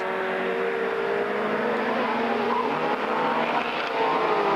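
Rallycross cars of the 1990 Lydden Hill Superseries race past on the circuit, a dense, continuous roar of several engines blending together at steady, loud volume without pause.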